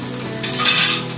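A spice paste of onion and ginger stir-fries in hot oil left from frying cauliflower, giving a steady close sizzle with a brief scrape of a utensil against the pan.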